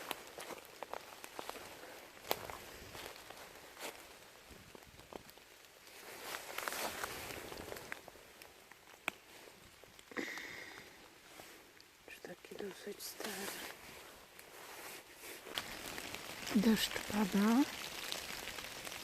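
Light rain falls in an autumn forest during mushroom hunting in November, a faint soft patter of drops and occasional footsteps through leaves, quiet and close, with brief movement noises.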